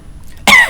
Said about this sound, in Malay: kadang-kadang berdehem, kadang-kadang buat batuk.